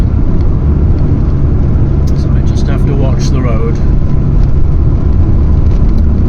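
Vintage Volkswagen T3/T25 van engine droning steadily and loud while driving the A537 Cat and Fiddle road, constant low rumble with road noise throughout, someone talking over it.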